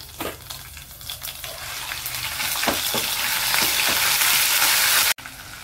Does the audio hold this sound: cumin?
yes